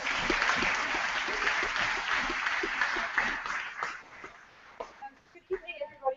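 Audience applause for a speaker at the Cape Town Science Centre, a dense sustained clapping that fades after about four seconds into scattered claps and a few voices.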